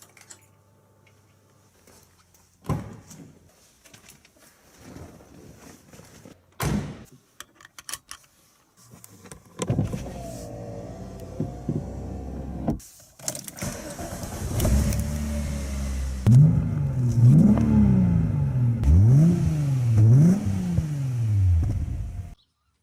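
Car engine from the Sega OutRun arcade racing game, a synthesized motor that rises and falls through repeated gear-shift sweeps, building louder toward the end after quieter clicks and button sounds.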